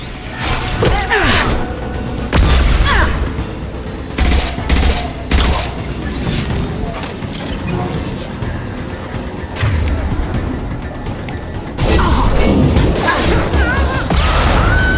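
In Mass Effect 2, heavy gunfire pounds at tanks in a dense, relentless barrage of shots, bursts and booming impacts that stays loud throughout, with brief gaps.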